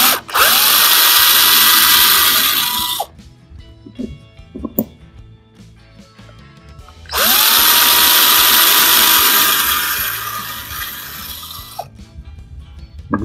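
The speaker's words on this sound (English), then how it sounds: "The tap comes with a bit that's the same size as the tap, and all you have to do is just get that in your drill" A power drill fitted with a tap bit bores into a Maisto diecast car casting, two loud, steady whirring bursts of about three seconds each, separated by a quieter pause with faint handling clicks.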